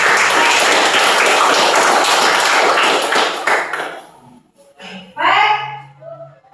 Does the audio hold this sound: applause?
yes